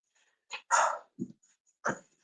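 A dog gives a few short, sharp barks at close range, spaced out with brief pauses, with a soft huff of breath between them and no talk.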